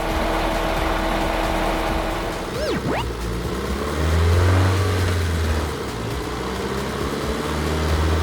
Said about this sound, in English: Cement mixer truck, a truck with a big drum that mixes cement.